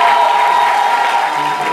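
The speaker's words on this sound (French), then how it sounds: "Est-ce qu'on peut applaudir déjà pour les..." A studio audience claps in a steady, dense wash of applause with some crowd noise, loud and close, lasting under two seconds.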